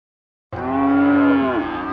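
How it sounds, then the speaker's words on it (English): A single cow lets out one loud, long, close moo at a busy cattle auction, the call holding steady before dropping in pitch at the end, with no talk over it. "It's another day at the Lamb Passes cattle auction."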